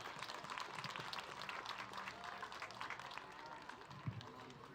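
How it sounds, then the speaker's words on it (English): Crowd applause for young exhibitors leaving the ring at a junior livestock show, a steer class; continuous, even clapping at low level, somewhat distant, with a faint knock near the end. "give these kids a good round of applause as they head out"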